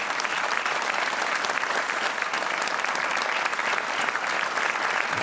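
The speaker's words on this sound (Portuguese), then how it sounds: "Um aplauso" Steady, dense applause from a studio audience on the Portuguese game show Joker, loud and continuous for several seconds without a break.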